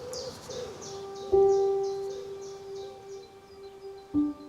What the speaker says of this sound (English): even the birds like it. Can you hear them?